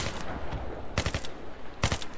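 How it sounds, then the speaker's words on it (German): Tank cannon fire in Battlefield 3 multiplayer, with two heavy broadband blasts, each followed by a rattling burst, set against steady combat background noise. "jetzt hat der Panzer dahin geschossen"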